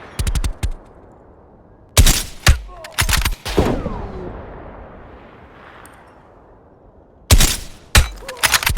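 Loud bursts of gunfire in the video game Call of Duty: Black Ops Cold War, sharp volleys at the start and end with a single shot in between, glassy breaking debris and ringing decay filling the gap.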